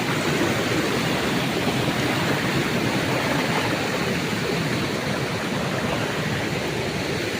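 Water pours down a mountain waterfall and a rushing stream rising in flash-flood conditions, a loud, steady, broadband roar that fills the whole scene without a break.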